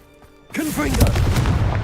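A Confringo blasting spell in Hogwarts Legacy bursts out after a quiet start, a loud explosive whoosh with sweeping tonal swirls and rumbling that sustains to the end.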